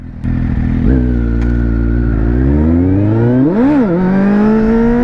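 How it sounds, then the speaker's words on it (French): Motorcycle engine revving loudly and close, rising in pitch as the clutch is released while accelerating with the brake held, with a sharp surge and dip before climbing again. "je lâche l'embrayage et j'accélère en même temps mais je freine"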